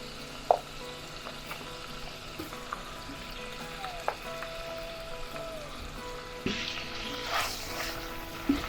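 Pork being stir-fried in a pot for Japanese curry rice: a quiet, steady sizzle with a few soft utensil knocks, growing into a louder, hissing fry near the end.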